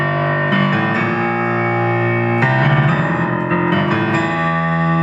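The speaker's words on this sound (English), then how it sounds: "Put it together with octaves." Piano left-hand riff, played in octaves, with full, resonant bass notes struck one after another and sustained, clearly and loudly, without any voices over them.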